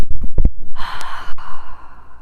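A single deep, slow breath drawn in and released during a calm guided clearing exercise, airy and close, with no talking over it.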